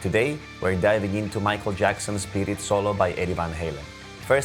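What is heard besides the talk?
No everyday noises stand out.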